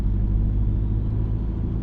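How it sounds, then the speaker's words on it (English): A Subaru Impreza blobeye with a turbo engine gives a steady, deep rumble with a faint airy hiss layered over it, close and constant, with no voices. "Something about that turbo noise. When it releases, it's kind of like"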